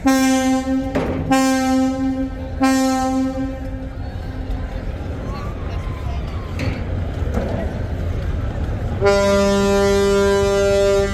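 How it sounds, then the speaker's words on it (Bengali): The passenger launch MV Manami leaves Dhaka's Sadarghat at night for Barishal, sounding loud, deep, sustained horn blasts at the start and again near the end over a constant din of crowd and engines. "ঢাকা থেকে বরিশালের উদ্দেশ্যে ছেড়ে যাচ্ছে এমভি মানামি লঞ্চ"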